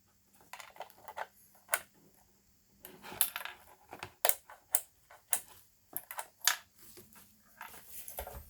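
Metal keys from a Predator 212 engine electric start kit jingle and clink in a series of sharp, irregular taps and rattles, close and fairly quiet, as if handled in packaging.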